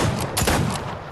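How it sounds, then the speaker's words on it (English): Rapid revolver gunfire from a six-shooter in the Fortnite video game, a dense burst of close, loud shots running together over the whole moment with no talking. "he was actually shooting me with that."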